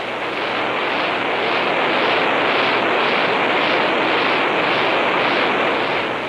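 The X-15 rocket engine, a throttleable engine idling at 30,000 pounds of thrust and able to reach 60,000, roars in a ground test run as a steady, loud, broadband rush with a slow pulsing waver and no voices.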